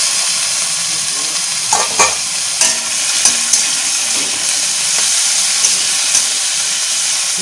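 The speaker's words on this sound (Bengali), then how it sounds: "এই আলুগুলো কেটে কুচিয়ে ধুয়ে নিয়েছিলাম, দিয়ে দিলাম ভাজার জন্য" Chopped, washed potatoes fry with onions in a pan, giving a steady, loud sizzle close by, with a few sharp scrapes and clinks as the pieces are stirred.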